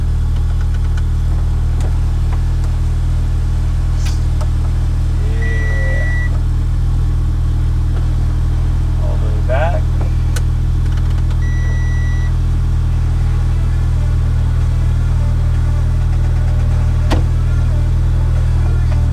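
A B8 Audi A4 converted to S4 with an ECS valved exhaust idles steadily, a constant low drone running throughout with a few faint clicks and beeps from inside the car.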